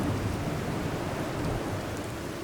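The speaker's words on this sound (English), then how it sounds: "I am kind of glad that it has started to rain" Steady rain falling in the Fallout 4 wasteland, a continuous soft hiss with a low rumble underneath, even and unbroken throughout with no voices.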